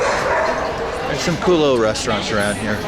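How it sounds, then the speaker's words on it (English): Dogs bark and yip in the background, a few short high calls under a person talking close by over steady outdoor street noise in La Condesa, Mexico City. "Lots of dogs. You can probably hear them barking."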